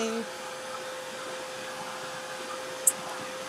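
A heat tool dries paint between layers on a mixed media layout, a steady airy whir held at one level throughout, close and moderately loud, with a faint brief tick near the end.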